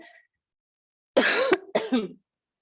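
During a yoga class, the instructor gives two short, close coughs a moment apart, rough and throaty, against otherwise quiet surroundings.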